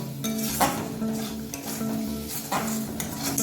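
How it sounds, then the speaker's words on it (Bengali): A spoon stirs cumin powder and spices into a pointed gourd curry in a pan, giving repeated scraping strokes and light metal clinks over a soft background sizzle. "দিয়ে দিলাম এক টেবিল চামচ জিরের গুঁড়ো এটাকেও আমি মিশিয়ে নেব"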